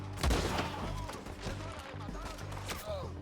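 Gunfire in the video game Red Dead Redemption 2, a burst of shots with a heavy opening blast followed by scattered cracks, mixed with game noise and faint voices in the background.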